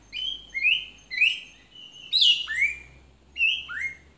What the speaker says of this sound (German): Das ist der schwarze Papagei.